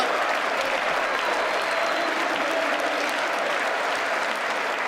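Sustained applause from a large audience at the State of the Union address, a dense, even wash of clapping that continues throughout without letting up.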